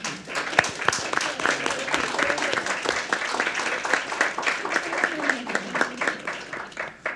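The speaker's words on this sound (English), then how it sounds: "I'd like to invite a round of applause for our panelists" A conference audience gives a round of applause for the panelists after a discussion on civil-military relations in Afghanistan, with dense, steady clapping from many hands in a hall.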